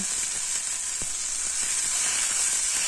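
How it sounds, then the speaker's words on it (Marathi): Washed sprouted moong tossed into hot oil with turmeric and cumin in a pan, crackling in a steady bright sizzle with soft scraping stirs every so often, close and continuous, no talk. "आपले धुवून घेतलेली मूग मच्छी टाकून घेऊया आणि एक पाच मिनटं हलवून"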